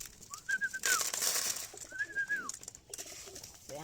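Pet barata birds call during feeding time with two drawn-out, rising-and-falling whistled coos, close and clear over faint background rustling.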